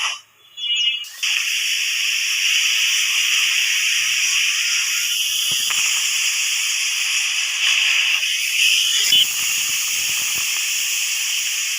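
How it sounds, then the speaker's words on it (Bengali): A pressure cooker cooking lentils lets off a loud, sustained steam whistle, a harsh continuous hiss that runs for many seconds with slight wavering, following a brief rattle at the start. "প্রেশার কুকারে চার পাঁচটা সিটি দিয়ে নিই"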